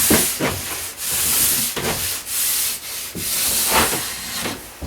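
A diamond stone scrapes back and forth along the steel edge of an alpine ski in a tuning shop, giving a close, steady, gritty rasp in repeated strokes with brief pauses between passes.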